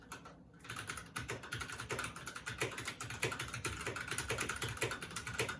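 Fast, continuous typing on a Keychron K6 hot-swap mechanical keyboard with linear switches makes dense, close key clacks and thocks, fairly quiet and without any talking.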